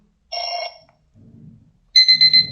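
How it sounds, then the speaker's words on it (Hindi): Short electronic alarm ringtone bursts from an XMobile Junoon Pro feature phone, a few beeping chimes separated by brief pauses, close and clear. "अलार्म के साथ 2 रिंगटोन है, स्टैंडर्ड और बेल की।"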